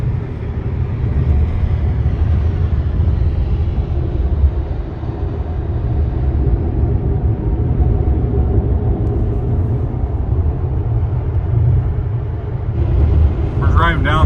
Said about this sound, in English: We're driving down the highway here, and I'll tell you what, this road is terrible.